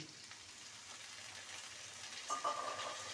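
Cauliflower frying in a pan with mixed winter vegetables gives a soft, steady sizzle, faint and close, with a brief stirring clatter near the end.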